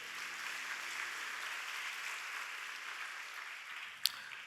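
Korean church congregation at a Friday night prayer meeting claps after a prayer, a soft, even patter of applause heard from a distance, with one sharp click near the end.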